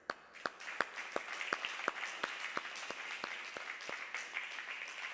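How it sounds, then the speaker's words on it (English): Applause at a virtual fundraising event for an adult day center, a few loud, sharp, evenly spaced claps standing out over a faint, thin patter of other clapping, fairly quiet overall. "we owe you an applause right now"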